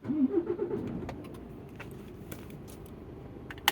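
A car pulls away from a weighbridge queue. Its engine gives a brief revving rise and falls off into the distance, then fades into quiet ambient noise with a few faint clicks and a sharp tap at the end.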